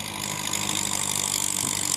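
A Kubota L5018 50 hp farm tractor pushing soil runs its diesel engine steadily for two seconds, a constant loud drone with no pauses or talk.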